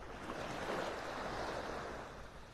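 Ocean surf washing around someone standing in the water at a beach in North Naples, Florida, a steady broadband wash with a gentle swell in the middle and light wind noise, no voices.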